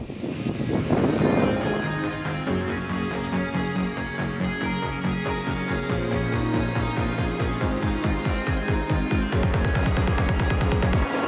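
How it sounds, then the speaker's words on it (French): A propeller aircraft used for a parachute jump flight to 2500 metres throbs loudly and close, its engine note rising and changing steadily as it builds power, with no talk over it. "nous allons embarquer dans l'avion qui est juste ici"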